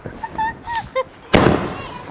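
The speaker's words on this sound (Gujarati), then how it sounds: "જો બીજો વાગ્યો અમારો ફટાકડો." A single loud firecracker bang at a Diwali celebration, sharp and close, with a rushing tail that fades over the next second. Voices sound just before it.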